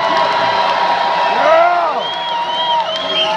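Rock concert crowd at a show in a Seattle theater cheering loudly and continuously, with whoops and shouts swelling midway through a dense, steady roar.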